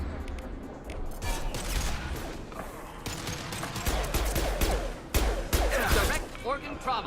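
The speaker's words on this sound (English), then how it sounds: "He is shooting me through cover." Dense enemy gunfire in Mass Effect 2 Legendary Edition: rapid bursts of shots and impacts keep coming loud and close, mixed with whooshes and crashes and no pause anywhere in the stretch.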